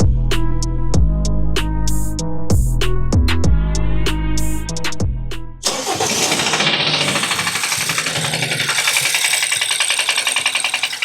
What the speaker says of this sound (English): So that's the knock in the engine.